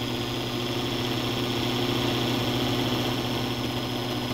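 Turbo diesel engine in the Wolf, running steadily at partial throttle during a test drive, a continuous droning hum with a faint high whine, close and even throughout.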